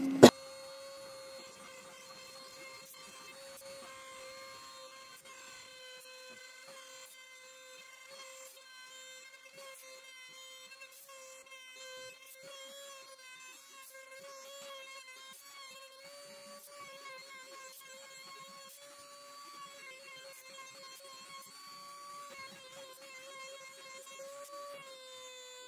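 A CNC router built from MDF runs while cutting parts, giving faint, shifting whining tones that step up and down in pitch over a quiet background.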